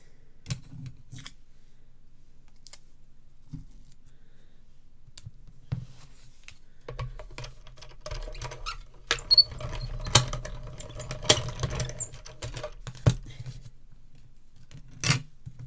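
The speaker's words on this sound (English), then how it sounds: "Just cut 2 of those out." Scissors snip out two small cardstock pieces for a card, a series of quiet crisp clicks and cuts close by, sparse at first and then quicker and denser.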